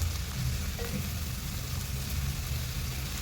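Tomatoes sautéing in a hot pan during home cooking of a dinner dish, a steady soft sizzle and crackle running throughout at moderate, even level with no talk.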